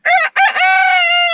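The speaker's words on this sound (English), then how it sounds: "then the rooster starts crowing" A farm rooster crows once, loud and close, a rising first note breaking into a long sustained tonal call with no other sound around it.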